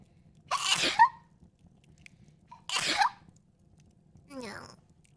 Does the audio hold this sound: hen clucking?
no